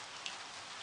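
Rain falls steadily outside, a dense, even hiss of drops on surfaces with one slightly sharper drip, heard alone.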